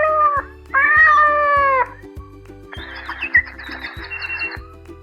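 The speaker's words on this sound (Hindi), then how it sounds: "हम बच्चों को एनिमल साउंड्स भी सिखाते हैं, जैसे कि बिल्ली कैसे बोलती है, चिड़िया कैसे बोलती है।" A talking pen touched to a children's animal book plays short recorded cat meows, two drawn-out mews followed by chirping bird calls, all over a steady electronic buzz with a repeating pulse.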